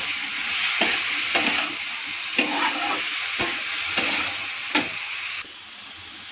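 Vegetables stirred in a hot frying pan, a steady sizzle broken by several sharp scrapes of the spatula at regular intervals, close and fairly loud, fading to a quieter hiss at the end.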